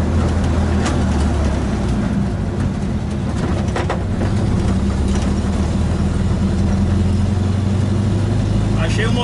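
A Volkswagen Kombi van with a 1500 engine drives along, its mid-pitched engine humming and rumbling steadily from inside the cabin while people talk over it.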